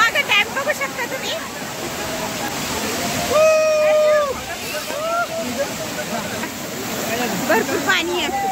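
Water rushes through a dam at Lonavala during monsoon rain, a steady broad roar that runs throughout while people talk over it.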